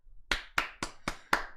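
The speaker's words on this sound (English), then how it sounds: "Everybody give it a round of a fucking applause." A single person claps six times, close and sharp in an irregular rhythm, the claps sounding alone against a quiet background.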